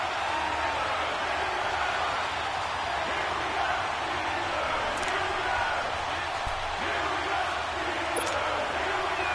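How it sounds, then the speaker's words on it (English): A stadium crowd in an American football video game on PS4, a steady loud roar of cheering that rises around a big third down, with a few faint thuds and sharp accents over the constant wash of noise. "the crowd getting into it as we come up on a big third down"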